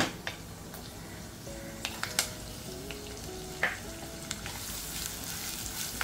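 Chopped onion frying with curry leaves in a pan for khichadi: a soft, even sizzle carries throughout, with scattered light clicks and taps of a utensil on metal.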